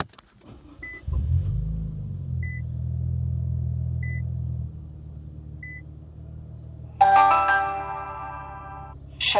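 Car engine cranking and firing into a loud, steady low rumble through a super loud exhaust, settling to a lower idle, with a few faint electronic chimes and a dashcam startup tone near the end.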